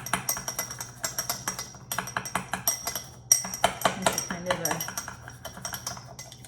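A metal bar spoon clinks rapidly and rhythmically against a glass while stirring a double Old Fashioned, with bright close taps in quick bursts and brief pauses, someone talking over parts of it.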